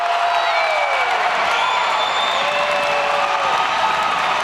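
A college basketball crowd roars after a blocked shot, loud continuous cheering with whistles and shouts filling the arena, sustained throughout.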